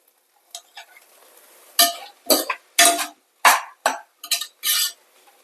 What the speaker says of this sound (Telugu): కందిపప్పు కూడా వేసేసుకున్నాను ఇందులోనే కందిపప్పు కూడా బాగా వేగాలండి